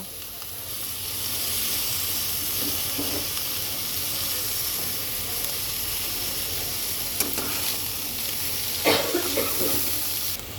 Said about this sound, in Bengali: তো চলো এখন এটাকে আমি আরও কয়েক মিনিট ভাজবো